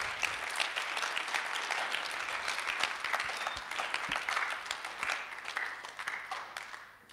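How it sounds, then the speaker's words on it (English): A talk show audience applauding, dense continuous clapping that holds steady for several seconds before tapering off at the end. "So I think we can give them a bigger round of applause."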